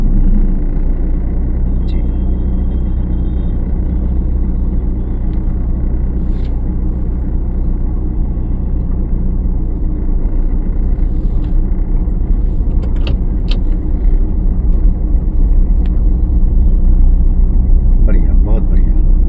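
Car creeping forward on clutch during a driving lesson, a steady low engine rumble throughout beneath an instructor's voice and a brief reply.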